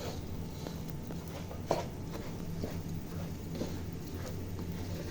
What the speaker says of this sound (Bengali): এই এরকম 5-6 মিনিট চালটা নাড়াচাড়া করতে এরকম একটা শব্দ হয়।